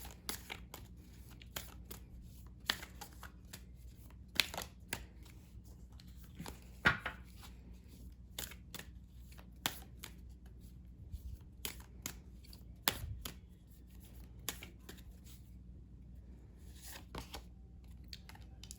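Tarot cards are drawn and laid down from a deck, making sparse, faint, close taps and soft card snaps scattered over a quiet room background, with no talking.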